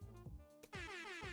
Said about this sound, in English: the drone blasts some air horns at us